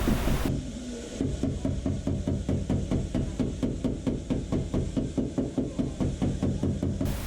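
A hammer knocks on a dented car body panel during body repair, a fast, steady run of sharp metallic taps, loud and close, continuing without pause for several seconds.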